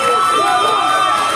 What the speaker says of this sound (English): And some cheers from the Canadian fans in the crowd.